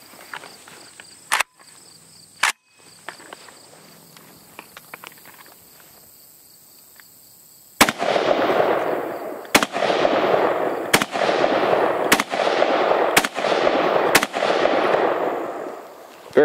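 A Sig Sauer 556R rifle loaded with Tula 7.62x39 ammunition fires about seven loud, evenly spaced shots outdoors, each one ringing on in a long echo, after a quiet stretch with a few clicks.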